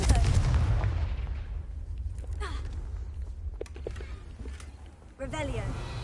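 A Confringo fire spell cast in the video game Hogwarts Legacy lands as a loud, booming blast, followed by scattered crackles and thuds as it fades, then a second burst near the end.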